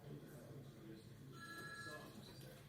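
An office telephone rings faintly in the background, a short electronic ring heard through the steady murmur of people chatting in an office.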